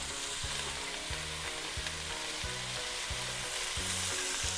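Onions with diced mirepoix vegetables frying in olive oil in a pan, a dense continuous sizzle and crackle with regular rhythmic knocks from stirring, close and alone.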